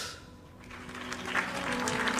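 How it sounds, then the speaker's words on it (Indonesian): Audience clapping, starting faint and building into steady scattered applause, fairly soft and distant throughout. "Tepuk tangan dulu."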